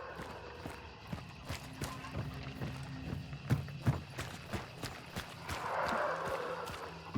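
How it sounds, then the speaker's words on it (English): In the Hunt: Showdown video game, footsteps sound inside a building as a quiet, regular series of thuds that repeat every half second or so. "All of a sudden, you just heard a random step in this building."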